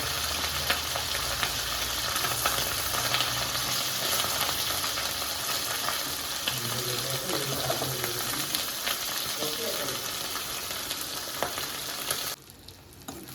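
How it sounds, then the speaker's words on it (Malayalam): Chicken pieces deep frying in hot coconut oil, a steady loud sizzle and crackle that runs continuously and cuts out abruptly near the end. "വെളിച്ചെണ്ണ നന്നായിട്ട് ചൂടായിട്ടുണ്ട്. അതിലേക്ക് ചിക്കൻ ഇട്ട് കൊടുക്കാം."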